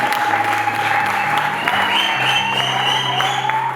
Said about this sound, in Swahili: Mpe Yesu makofi kwamba